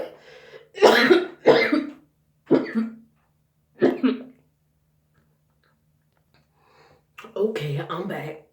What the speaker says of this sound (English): That coughing almost took a girl out.